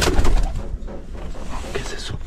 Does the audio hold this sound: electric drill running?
no